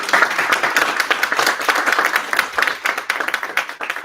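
Crowd at a gaming pitch competition applauding, a lively, continuous burst of many hands clapping at close range with a few faint voices underneath.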